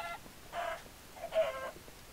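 Two short clucks from a chicken in the Minecraft video game, moderately clear against a quiet backdrop with no talking.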